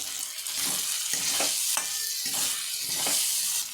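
Fried potatoes go into a pan of sizzling spice masala for a fish-head curry, bringing a continuous close frying hiss broken by repeated stirring scrapes at a loose, regular rhythm.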